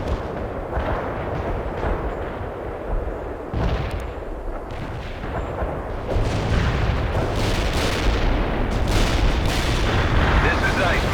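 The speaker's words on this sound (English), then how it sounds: "Cluster bomb hit with low effect." Dense rumbling barrage of cluster bomb blasts from the real-time strategy game World in Conflict, loud and continuous with sharp overlapping bursts that swell louder toward the end, with radio-style voices briefly heard.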